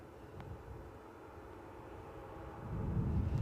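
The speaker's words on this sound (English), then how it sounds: "That is a Hawker 800 XP, folks" A Hawker 800 XP business jet departs Newcastle airport, a steady broadband engine roar heard from a distance that grows louder and deeper toward the end, with no voices over it.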